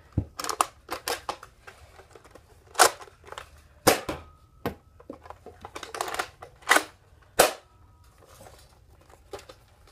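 Nerf Rival Apollo blaster firing foam rounds, a series of sharp, loud snapping shots at irregular spacing with quick rattling impacts and bounces between them.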